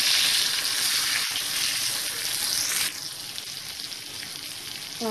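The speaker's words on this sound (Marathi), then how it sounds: "मीडियम गॅसवर 1 ते 2 मिनिटं आपण एक बाजूने पापलेट फ्राय करून घेणार आहोत" Pomfret fillets frying in a pan over medium heat, a steady dense sizzle of hot oil that shifts slightly in tone partway through, with a faint clink near the end.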